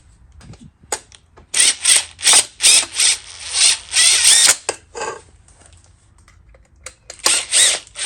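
Screws being driven into a Sun Joe electric pressure washer during assembly, a series of loud whirring bursts of a powered driver in quick succession with short pauses between, close up and with no talking.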